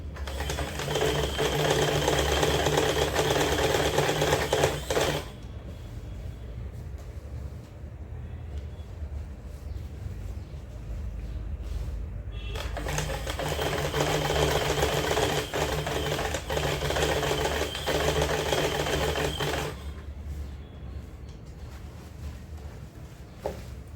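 A Stitch Queen sewing machine running an overlock stitch on saree falls gives a fast mechanical whir. It comes in two long bursts with a quieter running hum between them, heard close up with no talking.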